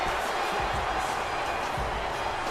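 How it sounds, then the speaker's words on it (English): Virtual Boston arena crowd in a WWE 2K wrestling game, a steady dense roar of cheers mixed with boos and chanting, with a few low thuds from the ring under it. "you hear the chants in the Boston Elite crowd here tonight"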